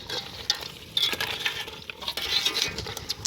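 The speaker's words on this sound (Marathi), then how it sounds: "खेकडे टाकू राहिले बघा. हलवून घ्या चांगले मस्त पैकी." Crabs being stirred in a hot, oily cooking pot, giving a steady sizzle and fry with scraping, clinking stir strokes and occasional sharp pops, close and alone with no talk.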